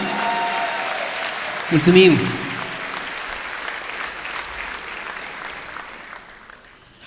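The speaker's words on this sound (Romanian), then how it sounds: "Aplaudați-l pe nașul meu" Applause from a concert audience at a holiday show, a brief burst of clapping under a spoken voice, fading gradually over several seconds.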